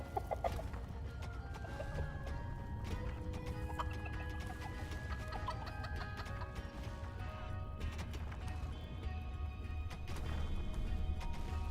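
Turkeys gobble and cluck in a Dungeons 4 game scene, several birdlike calls repeating over a steady low mechanical game hum.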